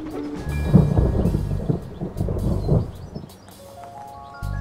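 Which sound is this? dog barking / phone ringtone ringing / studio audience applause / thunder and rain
thunder and rain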